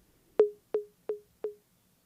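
An 808 conga sample repeats through a MIDI note echo, giving four evenly spaced percussive hits about a third of a second apart, each quieter than the last, clean and alone.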